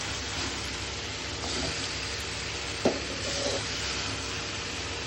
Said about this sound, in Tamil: நம்ம வந்து இப்போ 1 கிலோ சிக்கன் இதில் வந்து ஆட் பண்ணுறோம்.